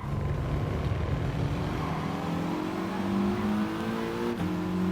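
A Mitsubishi Lancer Evo Final races around Tsukuba Circuit in a racing game, its engine droning steadily with rising and falling revs, loud and close, with no talk over it.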